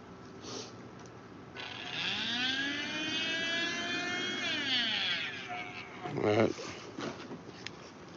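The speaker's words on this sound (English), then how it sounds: "I'm just trying to set this little blower up for her." A small blower runs over a resin painting to dry it, giving a steady whirring hum with rising and falling tones, and a brief clatter near the end.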